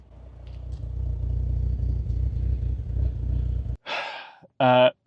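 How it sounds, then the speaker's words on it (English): A Saab 9-3 engine misfires, a low uneven idle rumble with faint irregular clatter running steadily for nearly four seconds, then cut off by two short bursts of other sound. "It might be hard to pick up here, but it definitely is misfiring"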